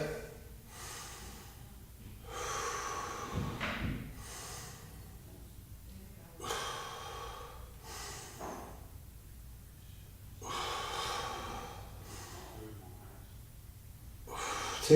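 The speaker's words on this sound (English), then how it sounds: "Taking a nice big deep breath in, let it go" Slow, deep yoga breaths during a sumo deadlift stance, each long inhale and exhale audible and close, repeating in a steady rhythm with quiet pauses between.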